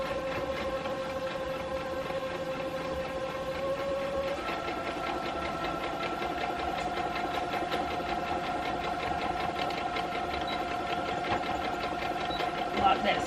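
A home sewing machine stitches steadily around potholders, a continuous close mechanical whir running for the whole stretch with only a faint bump near the end.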